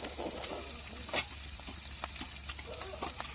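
Black masala sizzles and crackles in hot oil in a pan for a dubuk vada vegetable curry, with steady close frying and scattered sharp pops.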